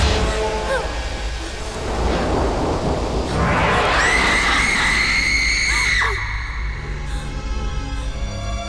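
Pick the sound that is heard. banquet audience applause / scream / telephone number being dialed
scream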